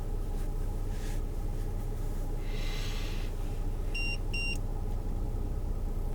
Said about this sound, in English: That was my temperature gauge.